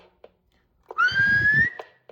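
A single steady whistle into a Road King CB radio microphone rises slightly in pitch and holds for under a second, close and clear, with faint clicks before and after.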